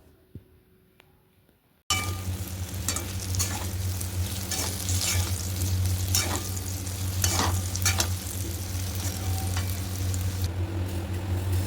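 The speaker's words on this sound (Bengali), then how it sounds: "আলুগুলো ভেজে নিচ্ছি, একটু হলুদ দিয়েছি, নুন দিয়েছি" Potato pieces with turmeric and salt frying in a pan, a loud continuous sizzle with repeated stirring scrapes and light clinks, starting abruptly after a quiet moment.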